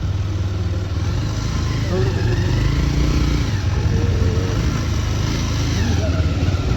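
A motorcycle engine runs steadily throughout with a continuous low drone and no clear revving, while people talk over it nearby.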